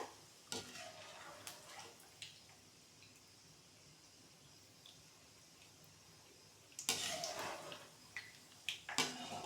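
Peanuts fry in oil over a low gas flame, making a quiet background sizzle broken by intermittent spatula scrapes and clinks against the pan, with a louder flurry of stirring near the end.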